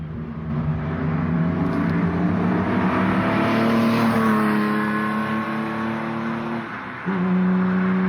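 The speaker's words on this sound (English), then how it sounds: "Is that a cutout valve? It must bypass the muffler." A car engine with its exhaust cutout valve open, bypassing the muffler, revs loud and close in a sustained, raspy roar that climbs, holds, then dips briefly before picking up again.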